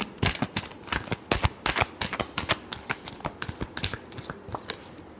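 Tarot cards are shuffled by hand in a quick series of crisp riffling slaps and flutters, close and fairly loud, with no voice over them.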